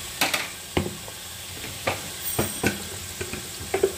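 Whole sliced onions sizzle and hiss in hot oil for a mutton handi, broken by sharp scraping clatters of a spoon stirring them through the pan at an uneven pace, close and fairly loud.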